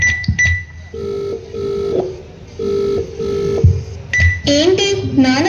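A phone ringing out unanswered, repeated electronic ring tones broken by short gaps, loud and close, with a busier melodic burst near the end and no talk.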